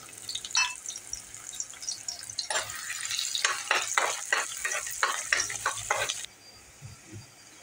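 Chopped onion sizzles in a hot pan for egg curry, a steady close crackle broken by a run of rhythmic scraping stirs, then easing to a quieter hiss near the end; no one speaks.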